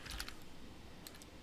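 Computer keyboard typing during software work: a short cluster of sharp key clicks at the start and another brief burst later, close and fairly faint over steady room noise, with no speech.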